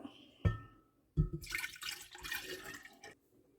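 Regular, evaporated and condensed milk pour into a bowl for a tres leches cake: two dull knocks, then a faint, uneven splashing pour for about two seconds, all quiet and close.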